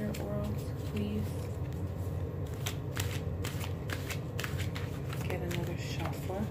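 Tarot cards being shuffled as part of a December forecast reading, giving a steady papery riffling and sliding that runs continuously, close and moderately loud over a constant low background hum.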